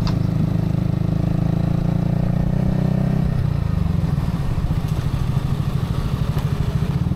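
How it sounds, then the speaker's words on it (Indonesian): Motorcycle engine droning loudly and steadily at close range, with a scooter-type motorbike passing on a rural road during a touring ride on a Yamaha XSR. "motor ember lewat, motor ember."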